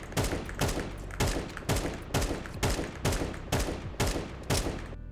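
Counter-strafing in CS2 with bursts of rifle fire, about eight sharp evenly spaced shot volleys cracking loud and close, each followed by a short tail, no talking.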